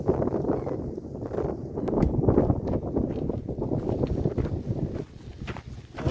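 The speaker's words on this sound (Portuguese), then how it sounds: "O vento tá muito forte, tá dando umas rajadas." Strong gusting wind at a roadside stop on the way to Tupiza, Bolivia, roars steadily across the microphone, swelling and briefly easing in near, loud buffeting without any voices.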